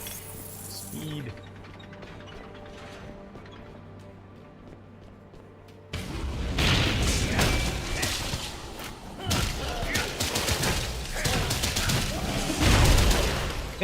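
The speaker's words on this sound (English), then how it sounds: "Jump right into my explosions." In the Torchlight III action game, a quiet stretch gives way to a burst of rapid, overlapping combat explosions, thuds and clinks that pile up loudly and keep going in dense waves to the end.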